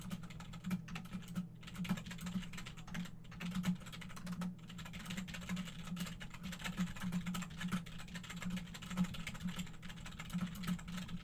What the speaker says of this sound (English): just furious typing.